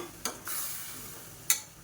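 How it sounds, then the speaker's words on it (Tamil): Mutton cashew sukka curry bubbles in a pan, a soft sizzling boil with two or three quick scraping stirs, close and fairly quiet, with no one talking. "இப்போ அது பாருங்கள் நல்லா கொதிக்க ஆரம்பிச்சிருச்சு"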